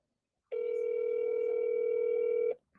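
A steady telephone dial tone sounds while a call is placed from a phone number. It is loud and continuous for about two seconds, then cuts off abruptly, with no talking over it.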